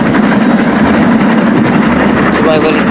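A steady, loud rolling rumble of a train in the Roblox game Dead Rails runs without a break, with faint clacking under it and voices talking over it.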